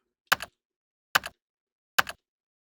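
Three isolated keystrokes tap on a computer keyboard while searching in Vim, each a crisp double-click press and release, evenly spaced in near silence.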